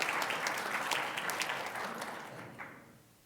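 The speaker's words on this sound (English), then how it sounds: "Applause would be appropriate." A church congregation applauds after a pledge campaign total is announced, a warm wash of many hands clapping that starts strong and gradually fades away over a few seconds.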